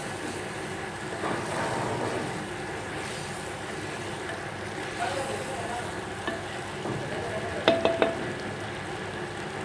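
Salted Punjabi-style beef vermicelli is stirred in a pot, a continuous close scraping and sizzling wash with a few sharp metallic clinks near the end.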